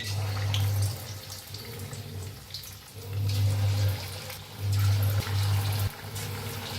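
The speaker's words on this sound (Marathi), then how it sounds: "आता आपण तळून घेऊया. एक पीस घेऊन घालायचं असं तेलात." Chicken 65 pieces fry in hot oil with a continuous, close bubbling sizzle, joined by intermittent low humming swells that come and go, and no voices.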